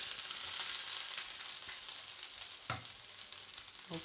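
Panko-breaded prawns frying in hot oil make a steady, dense sizzle with occasional louder pops and crackles, heard close up with no talking.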